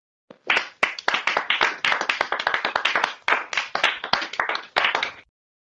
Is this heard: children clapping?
yes